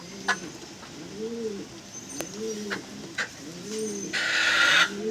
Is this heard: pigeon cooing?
yes